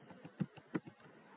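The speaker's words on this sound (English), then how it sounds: "hit enter and start typing" Quiet, close keystrokes on a computer keyboard while editing a file in a Linux terminal text editor, a short run of irregular taps with two slightly louder presses and no talking.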